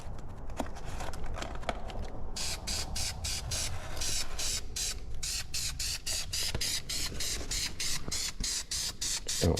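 Spray can painting an engine oil pan for a 1984 Dodge W150, a faint hiss at first, then a run of short, close bursts of spray repeating in quick rhythm.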